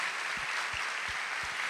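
A church congregation applauds its volunteers, a steady, fairly distant wash of clapping with a few soft low thumps underneath.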